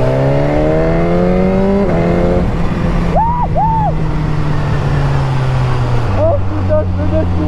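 A car engine revs under acceleration, loud and close, its sustained pitch climbing and shifting with brief breaks, while people talk over it.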